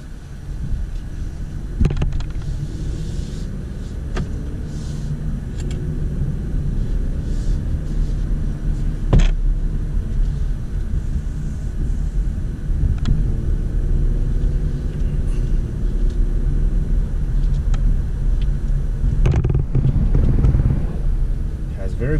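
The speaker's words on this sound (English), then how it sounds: "Now we're gonna unleash all the power by putting in sport mode and go for a drive." A 2017 Ford Fusion Sport drives in sport mode, its engine and road noise forming a steady, loud rumble that rises and falls slightly throughout, heard from inside the car.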